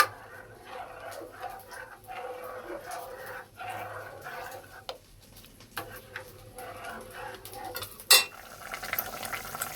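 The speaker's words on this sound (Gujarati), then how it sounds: "દહીંને આપણે એકસાથે મિક્સ કરી દેવાનું છે" A spoon mixes yogurt marinade for paneer tikka in a bowl, with steady soft scraping and light clinks of utensil on the dish, near and fairly quiet, and one sharper clink late on.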